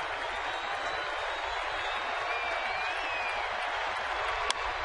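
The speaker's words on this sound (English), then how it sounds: "sellout crowd getting into this 3-2 pitch by Zito" A sellout baseball crowd cheers and buzzes at a full-count pitch by Zito, a broad steady roar of distant voices and clapping with no break.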